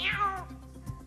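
A person imitates a cat with a single drawn-out meow that falls in pitch, heard close and clear over a quiet background.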